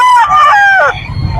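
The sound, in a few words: chickens, rooster crowing at a pet market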